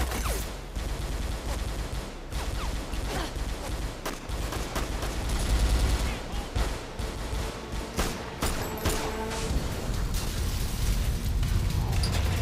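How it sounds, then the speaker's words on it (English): Dense gunfire bursts and explosions from the Mirror's Edge video game, loud and continuous with rapid cracks and deep booms layered over a rumbling low end. "That explosion, though."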